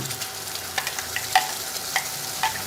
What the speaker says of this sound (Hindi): अब इनमें आप जो मसाला पीस न रखिए आप कांदा लहसुन वगैरह इनमें डाल दें।